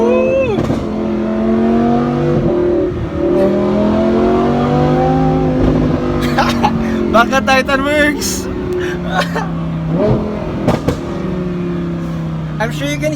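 A Lamborghini fitted with a gold FI exhaust revs hard, its engine note rising and falling in a loud, sustained roar with sharp blips, while excited people shout and talk over it.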